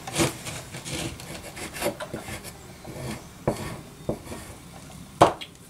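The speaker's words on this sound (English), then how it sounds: "That's about all that I really want to scrape on there." A tool scrapes carbon deposits off the piston of a Kohler KT17 engine, giving close, intermittent rasping strokes with a few sharp scratchy bursts and quiet pauses between them.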